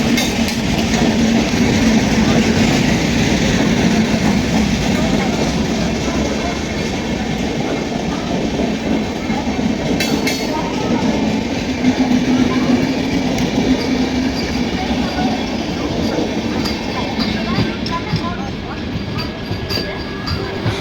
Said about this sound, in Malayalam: അപ്പം ഞങ്ങളുടെ ട്രെയിൻ വരാറായെന്ന് തോന്നുന്നു.